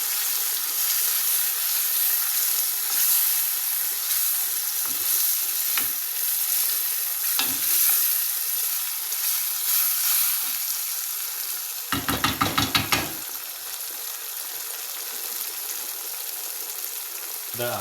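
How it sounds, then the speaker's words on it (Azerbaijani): Chicken liver fries in cream in a pan, a steady close sizzle and hiss running throughout, with a burst of spoon scraping and stirring partway through. "Və beləcənə yaxşıca qarışdırırıq."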